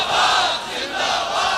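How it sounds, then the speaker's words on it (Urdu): Large crowd at a religious gathering chanting a slogan in unison, a loud sustained roar of massed voices that swells, dips slightly and rises again. "ایتھوں نہیں ایتھوں بڑے نعرے ہو گئے"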